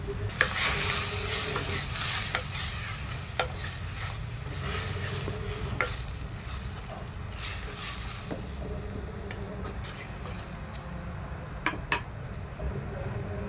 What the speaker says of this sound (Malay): Gaul rata bersama renca tadi.